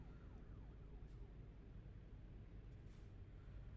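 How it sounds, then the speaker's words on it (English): Police sirens in a trucking video game wail faintly in the distance over a steady low rumble of traffic and truck engine noise. "I hear sirens all over the place."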